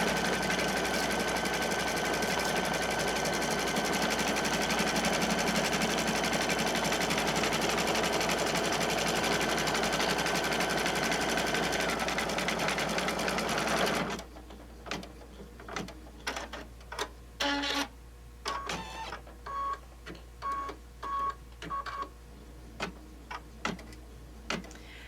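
An embroidery machine stitching quilting on a zippered pouch held in the hoop, a dense, steady mechanical whir for about fourteen seconds, then it stops and is followed by scattered soft clicks and taps.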